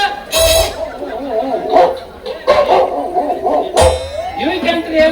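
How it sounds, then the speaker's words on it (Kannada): Dogs bark in short, loud bursts during a village stage drama, with people talking over and between the barks. "3 ನಾಯಿ ಜಾತಿ ನಾಯಿ ನಿಂತಾವ್ಲಿವ"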